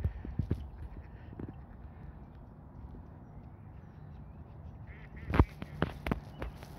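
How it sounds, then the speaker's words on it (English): Ducks quacking nearby in short bursts, a few at the start and a louder cluster of sharp quacks near the end, with a quiet outdoor background between. "They're making little duck noises."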